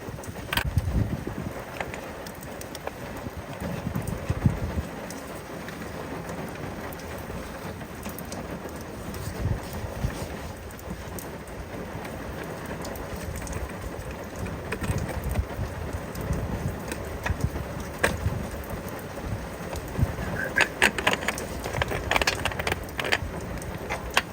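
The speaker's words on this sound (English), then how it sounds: "It's raining." Rain falls steadily outdoors during work on a car, a soft continuous patter and hiss with scattered drops and faint clatter, moderately quiet and unbroken, with no voices.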